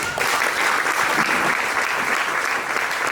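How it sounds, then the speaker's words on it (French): Warm applause from a gathering at a school-supplies donation ceremony, thanking donors from Canada; a short, continuous burst of many hands clapping at steady volume. "Est-ce que nous pouvons applaudir?"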